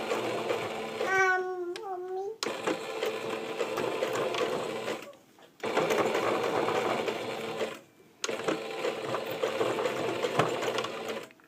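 A sewing machine stitching back and forth on a cloth diaper while topstitching elastic into a pocket, running in three steady sustained bursts with short stops between, after a brief rising whine at the start.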